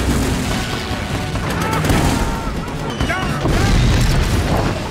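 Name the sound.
gunfire shots in a film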